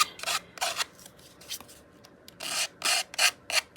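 Scissors snip paper in a series of short, crisp cuts, close and fairly quiet, with small pauses between clusters of snips.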